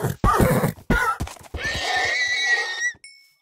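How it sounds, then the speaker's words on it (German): Horses in the Minecraft video game neigh and whinny loudly in several harsh bursts, followed by a short trailing cry and faint electronic tones at the end. "Oh, die schreien immer so, die Pferde."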